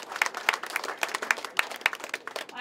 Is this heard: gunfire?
no